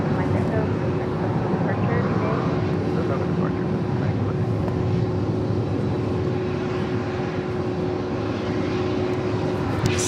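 A Hawker 125 business jet departs LAX for Los Cabos, a continuous engine roar at moderate distance with a steady tone running through it and a constant noise floor.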